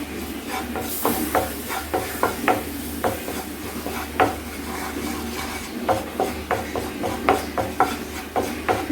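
Tablespoon of maida flour frying in butter in a pan, stirred steadily with repeated scraping strokes over a soft sizzle, close and moderately loud, no talking.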